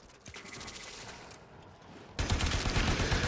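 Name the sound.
gunfire in the video game Warframe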